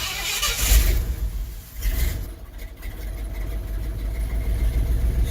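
A 1979 vehicle's engine cranks and starts with a light touch of throttle, surging twice before holding a steady, close idle.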